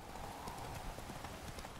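Faint, rapid clip-clop of horse hooves trotting steadily along in the video game The Witcher 3, with a soft background rumble.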